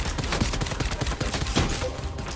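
Rapid gunfire from the video game Fortnite rattles continuously in a dense burst of repeated shots, loud and close, with no pauses across the short span.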